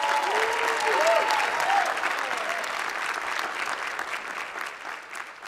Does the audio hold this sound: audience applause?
yes